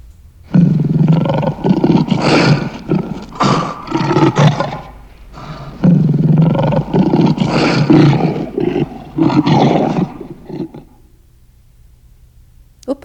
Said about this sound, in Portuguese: o som do leão